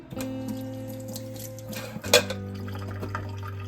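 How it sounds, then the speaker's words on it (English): Water runs and splashes steadily while seeds are rinsed off roasted red bell peppers for a tomato soup, with a brief louder splash midway over a constant low hum. "Rinsing off seeds."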